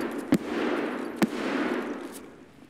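Two sharp, loud gunshots about a second apart in an online multiplayer shooter game, each a crisp crack over a low rumbling background, followed by a fainter third report.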